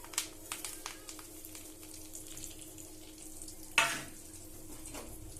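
Tempering spices hit hot oil in a pan for sambar and sizzle softly, then a sudden loud crackling burst flares up near the end before dying back into a quieter fry.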